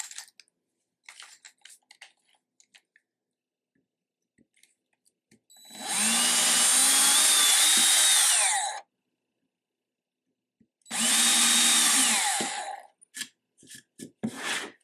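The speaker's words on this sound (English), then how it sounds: "So now I'm just trying to make these holes a little bit bigger." A power drill whirs in two bursts of about three and two seconds, widening pre-drilled holes in a Dollar Tree spice rack, with small handling clicks and taps between them.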